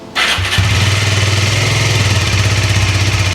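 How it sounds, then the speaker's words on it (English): An Aprilia RS4 125 motorcycle engine fires up and settles into a steady, loud idle as it warms its oil, a close, even low thrum running throughout with no talk. "we're just going to start the bike up, let it run to temperature just to warm that oil up"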